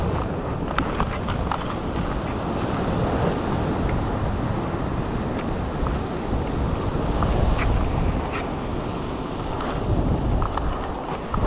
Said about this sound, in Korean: 파도 세다.